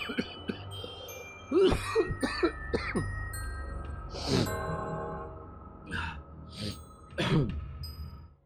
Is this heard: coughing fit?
yes